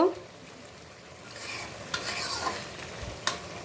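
Cabbage and potato curry frying in a pan while being stirred, a steady close sizzle with scraping spoon strokes and a few sharper knocks against the pan, no talking.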